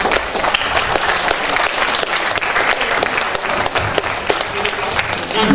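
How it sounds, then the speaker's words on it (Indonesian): An audience applauds a speaker at the opening ceremony of an organization's general assembly in a hotel in Malang, with loud, dense, continuous clapping that stays steady throughout. "Kita berikan tepuk tangan untuk Mas"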